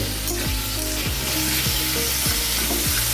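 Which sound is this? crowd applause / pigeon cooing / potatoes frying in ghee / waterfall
potatoes frying in ghee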